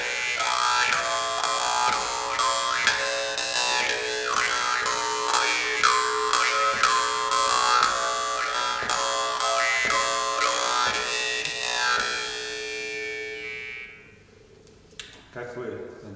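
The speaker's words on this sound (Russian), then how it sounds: "И с хомусом это будет звучать так." A Yakut khomus jaw harp plays the melody of the song Kymys yryata, giving a loud, close, twanging buzz with vocal-like shifts in tone for about thirteen seconds before fading out into a few soft knocks.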